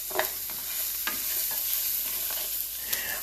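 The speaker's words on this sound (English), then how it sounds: "I love the smell of cooking onions in my house" Onions sizzling and frying in a pan at home, a steady soft hiss with occasional light scrapes and taps as they are stirred, close and moderately quiet.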